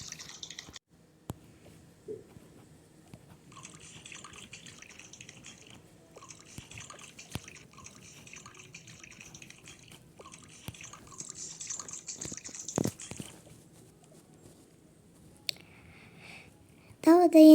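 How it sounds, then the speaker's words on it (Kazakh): Flowers are watered in the mobile game Toca Life World, giving faint, scattered dripping and trickling effects with occasional soft clicks over a quiet background. "Мына гүлдерге су құйып қояйыншы."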